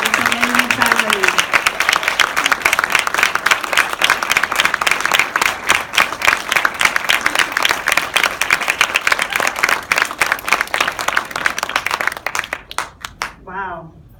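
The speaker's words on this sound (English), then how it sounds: "Can we get a round of applause?" Audience at a film screening Q&A bursts into sustained loud applause, dense clapping that carries for about twelve seconds before fading out, with a few voices near the end.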